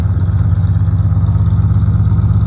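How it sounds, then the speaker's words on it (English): A 1978 Mercury Grand Marquis coupe's big engine idles with a deep, steady exhaust rumble, loud and close, with no voices. "Sounds good too. I like the exhaust."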